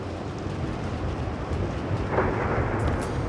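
Video game thunderstorm with steady rain and low rumbling thunder, a continuous dense wash of sound that swells slightly toward the end, with no voices.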